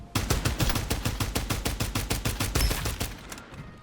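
Sustained rapid automatic fire in the Farlight 84 aim practice area, a loud, evenly spaced stream of close shots that continues nearly the whole time before tapering off.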